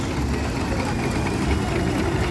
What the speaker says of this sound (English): Fowler General Purpose traction engine owned by Pete Buffett.